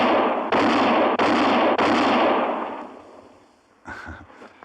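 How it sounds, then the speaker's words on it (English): Three sharp gunshots from a quick-draw contest in a Western frontier radio drama crack out in fast succession, each ringing with a long decaying echo, followed by a fainter brief clatter. "that's mighty fine shooting, Mr. Kendall."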